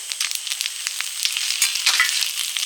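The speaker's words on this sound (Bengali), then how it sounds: "এবার ডালে ফোড়ন দেব শুকনো লঙ্কা গোটা জিরে" Dried red chilies and whole cumin seeds sizzling in hot oil to temper dal, a bright crackling hiss with rapid pops and spits, close and lively, swelling briefly in the middle, with no voices.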